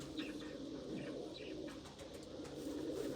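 Pigeons coo softly in a low, throaty, repeated murmur, faint and close, with a few light chirps and no talking.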